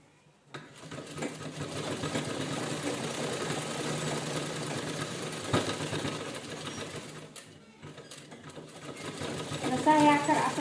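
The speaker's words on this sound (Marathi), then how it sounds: "ह्याच्यावर पूर्ण राऊंडला शिलाई करून घ्यायची." Sewing machine stitching all the way around a cloth organizer for storing plastic carry bags, a steady mechanical whir running nearly throughout with brief pauses, while someone talks over it.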